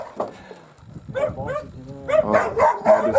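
A dog barks and yips several times at moderate distance outdoors by a river, the short bursts growing busier toward the end.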